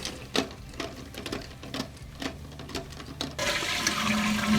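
A toilet tank refills through its fill valve, a steady rushing hiss of water with faint clicks that swells louder toward the end.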